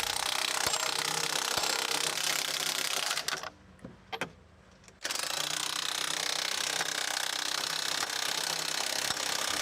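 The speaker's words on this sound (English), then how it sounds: "we're going to tighten those together with an impact driver" An impact driver tightens carriage bolts through a flitch beam on a house job, giving loud, continuous rattling hammering with a short pause before it resumes.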